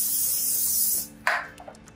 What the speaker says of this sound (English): You don't want to spray right into their face.